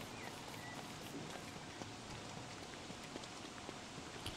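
Steady rain falls in the survival game Don't Starve, a soft even hiss of many drops with faint scattered ticks throughout, continuous and moderately quiet with no voices.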